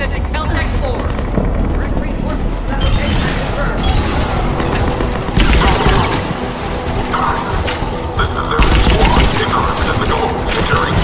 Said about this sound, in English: Taking enemy fire from Pacific Caltech 4.